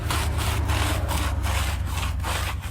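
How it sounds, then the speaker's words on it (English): A stiff-bristle wheel brush scrubs the tires of a 2014 Ford SVT Raptor SE after snow and ice, a loud, close, rasping back-and-forth stroke repeated several times in quick rhythm. "I'm just gonna start scrubbing"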